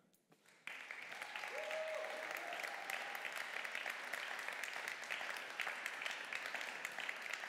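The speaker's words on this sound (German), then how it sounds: "Nochmal großen Applaus." A science slam audience at a championship final in Dortmund breaks into sustained, dense applause that starts abruptly and carries on evenly, loud and close, with no talk over it.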